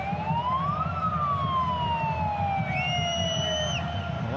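A siren wails inside a football stadium during an A-League match between Adelaide United and Macarthur FC, its pitch gliding up and down continuously while a second higher tone joins briefly near the end, loud over crowd ambience.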